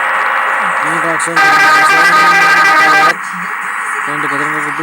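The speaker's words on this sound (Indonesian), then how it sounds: "Ini klakson" A loud bus horn blares for nearly two seconds, cutting in over a talking voice and road noise at a fuel stop on a Jogja to Malang trip; speech continues before and after.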